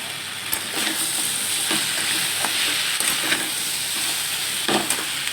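Cumin and coriander powder sizzle and crackle in a hot pan, a steady close frying hiss with occasional scraping clicks from stirring.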